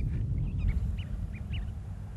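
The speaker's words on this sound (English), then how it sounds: "here comes another flock of migratory birds" Flock of migratory ducks in the Anatidae family wintering in Penghu, several short nasal quacks scattered over a couple of seconds, fairly distant, above a heavy low rumble of wind or surf.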